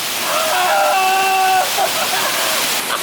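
Waterfall on the Braveheart Trail at Hatfield McCoy rushing and splashing in a loud, steady wash close by, while a voice talks briefly over it.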